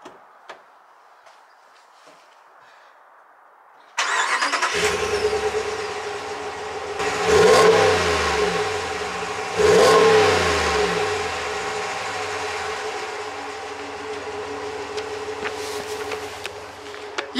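Ram 1500 pickup with a 5.7 Hemi V8 cranking and firing up after a quiet start, then settling to a deep idle broken by two strong revving blips, close and fairly loud.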